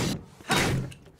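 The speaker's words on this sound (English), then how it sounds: "Break open that crate." A wooden crate smashed open in the video game Sunset Overdrive: a short scrape, then a loud splintering crash with a brief clatter of debris afterward, close and alone.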